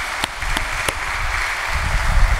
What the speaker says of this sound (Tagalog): Bigyan natin mahal ng Panginoon isang malakas na palakpak.